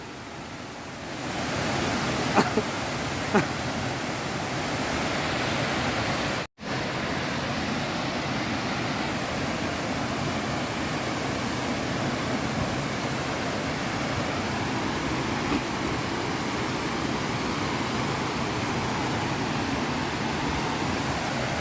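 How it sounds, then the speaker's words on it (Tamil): Steady, loud rushing water pours continuously from a waterfall in the Kolli Hills, a dense broadband roar with no voices and only a brief dropout. "தண்ணி பார்த்தீங்களா ஃபுல்லாக தண்ணி வந்துக்கிட்டு இருக்குது"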